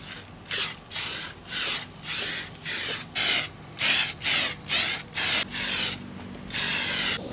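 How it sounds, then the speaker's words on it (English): Valspar Plastic Coat spray paint hissing from an aerosol can onto truck rocker panels, in about eleven close, loud bursts of roughly half a second each with brief gaps, the last one longer. "So I'm gonna try this plastic coat by Valspar, see how we like it."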